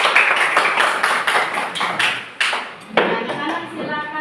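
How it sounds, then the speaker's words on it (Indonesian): Schoolchildren in a classroom clap their hands together in a quick, steady rhythm of sharp claps, with young voices mixed in. "Iya, kita tepuk tangan dulu."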